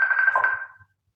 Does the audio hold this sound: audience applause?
no